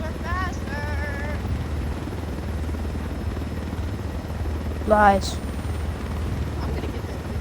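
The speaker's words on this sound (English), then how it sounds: "Helicopters are faster." A helicopter in the Ghost Recon Wildlands video game drones steadily with a low rotor hum throughout, while players talk over it.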